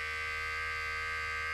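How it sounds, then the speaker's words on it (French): A vibrating device on a baby's bed buzzes steadily like an electric razor or toothbrush, a constant close tonal hum with no breaks and no voices. "on dirait un rasoir ou une brosse à dents"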